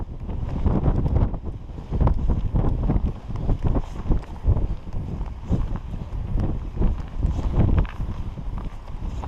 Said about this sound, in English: Again, sorry about the wind.